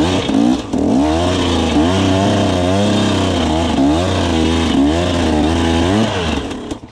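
Enduro dirt bike engine revving hard and loud up close, a buzzy two-stroke-like whine that rises and falls in quick surges over several seconds, no talk.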